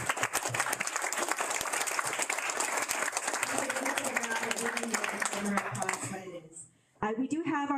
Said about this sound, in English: let's give a round of applause for Red Cross volunteers